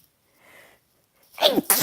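One person sneezes loudly and close up, with a short sharp burst after a faint intake of breath.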